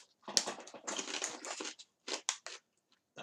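Crisp, dry crunches of pork crackling with mustard being chewed up close, a dense burst of crackly bites followed by a few sharper separate crunches with pauses between.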